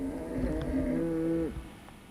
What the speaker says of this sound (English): calling the cows in for lunch